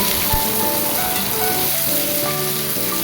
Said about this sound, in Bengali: ওই পেঁয়াজের মধ্যে আলুগুলো ভেজে দিব